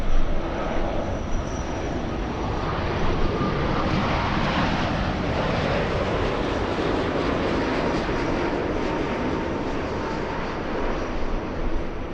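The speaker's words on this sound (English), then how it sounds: "Let's go for the Dreamliner" A Boeing 787 Dreamliner at Los Angeles International Airport gives a steady, loud, broadband jet roar that holds evenly throughout, with no talking.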